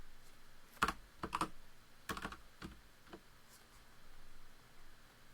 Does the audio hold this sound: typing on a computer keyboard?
yes